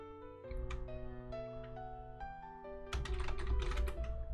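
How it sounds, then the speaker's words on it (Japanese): Keys click on a computer keyboard while Space and Enter are pressed in Microsoft Word during a computer class, with moderately loud taps over a faint tonal background and a denser burst of keystrokes near the end. "スペースキーで変換してエンターキーで確定します。"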